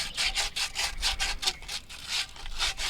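Sand cloth is rubbed back and forth over new copper line fittings on an AC condensing unit, giving a close, rhythmic rasping scrub with about a dozen even strokes and no talk.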